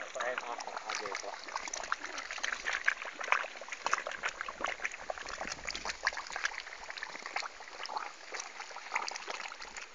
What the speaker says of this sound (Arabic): المي شلون يندفع من العيون؟